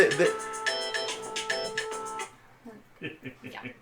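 A mobile phone ringtone rings loudly during a four-player Dokmus board game session, a bright repeating electronic melody for about two seconds before cutting off, followed by people talking.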